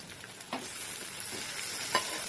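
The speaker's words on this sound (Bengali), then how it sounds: "এখন দিয়ে দেবো টমেটো, কেটে রাখা টমেটোগুলো দিয়ে দেবো।" Chopped tomatoes go into a pan of frying onion and ginger-garlic paste, a soft, steady sizzle with a few faint stirring scrapes, close and fairly quiet.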